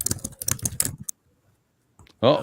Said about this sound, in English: Somebody's typing the shit out of their